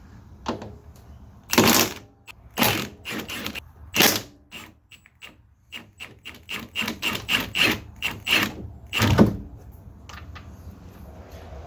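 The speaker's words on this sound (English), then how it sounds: "Next, we'll want to remove these three 13mm bolts up top." A socket wrench ratchets in clicking bursts as 13mm strut bolts are worked loose on a Subaru during a suspension lift install. Metallic scrapes and knocks come between runs of quick, close ratchet clicks.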